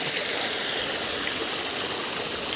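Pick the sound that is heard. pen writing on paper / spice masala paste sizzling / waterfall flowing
waterfall flowing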